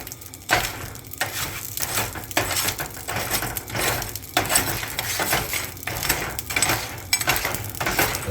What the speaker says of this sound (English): I'm going to continue to stir until all of the moisture is out of the material.